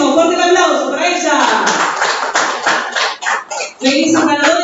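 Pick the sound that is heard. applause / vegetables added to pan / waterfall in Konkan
applause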